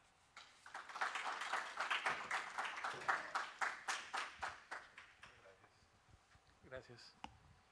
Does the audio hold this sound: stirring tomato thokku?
no